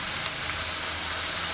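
Oil crackles and sizzles steadily as potato chips fry, a dense hiss with small pops throughout, no talking.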